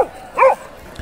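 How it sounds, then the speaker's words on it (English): A Boxer dog gives a single loud, close bark, short and sharp, with quiet surroundings before and after. "I remember this recording of him barking was"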